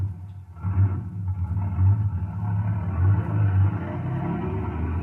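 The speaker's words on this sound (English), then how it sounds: "I shoved the Brute into gear, and we were on our way." An old radio-drama vehicle called the Brute rumbles heavily at low pitch and lurches into gear, its engine drone pulsing steadily throughout, close and alone without voices.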